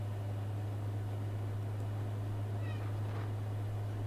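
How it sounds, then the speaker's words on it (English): A cat gives a couple of faint, brief meows in the background, low under a steady electrical hum and room noise. "Leave the cat alone."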